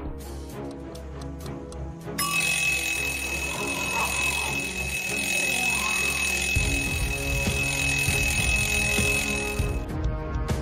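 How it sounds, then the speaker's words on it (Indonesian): An alarm clock rings continuously and loudly for several seconds in a steady metallic trill after a sudden start, then cuts off abruptly. "Lalu Gabriel mengeluarkan jam alarm dan melemparnya ke tengah semak-semak untuk mengalihkan kawanan zombie"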